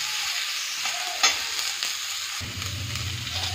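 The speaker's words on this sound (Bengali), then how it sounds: "বেগুনগুলো দিয়ে সামান্য নাড়াচাড়া করে মশলাগুলো দিয়ে দেবো।" Eggplant fries with spices in a pan while it is stirred, giving a steady close sizzle with scraping stir strokes and one sharp clink, and a deeper bubbling fry near the end.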